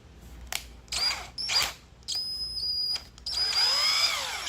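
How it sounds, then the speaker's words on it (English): A power drill whirs in several short bursts, then runs longer, its high motor whine starting and stopping close by. "You see the drill bit coming?"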